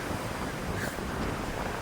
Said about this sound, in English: the water's coming up over the bank over here